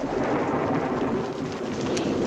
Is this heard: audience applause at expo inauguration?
no